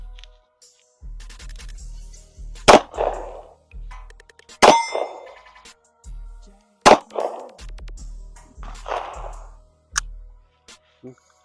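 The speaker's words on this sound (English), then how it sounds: "Let's shoot these hollows that whoever had the gun was carrying." Several gunshots with hollow point rounds striking a steel target, each a sharp loud clang ringing out, spaced a couple of seconds apart, with quieter clicks and handling sounds in between.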